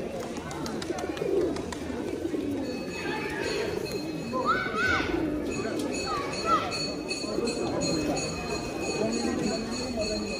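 Pigeons cooing at Manakamana Temple in Gorkha, Nepal, soft repeated coos amid a busy, noisy outdoor crowd ambience with a steady background hum throughout.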